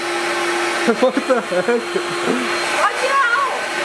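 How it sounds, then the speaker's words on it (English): A vacuum cleaner drones steadily with a high tonal whine while a person speaks briefly over it and other voices chatter. "turns on the vacuum"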